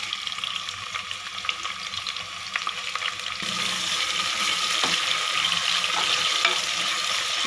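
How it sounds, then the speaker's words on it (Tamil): Chopped onions fry in a pan with bay leaf and fennel for a vegetable biryani, a soft sizzle that swells into a louder, steady hiss partway through as stirring continues. "இப்போது வெங்காயத்தை நல்லா ஃப்ரை பண்ணிக்கோங்க"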